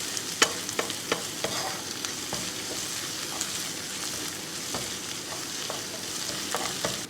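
Ginger and garlic cook in a pan for a shredded mushroom coconut milk masala, with continuous near sizzling broken by frequent sharp stirring clicks and scrapes.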